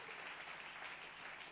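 A church congregation breaks into steady applause, a dense continuous wash of clapping heard from some distance, fairly faint and unbroken throughout.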